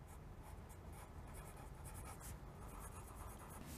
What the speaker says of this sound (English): Will you please write this sentence?